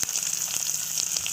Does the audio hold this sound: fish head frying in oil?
yes